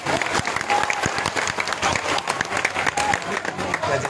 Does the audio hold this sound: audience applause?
yes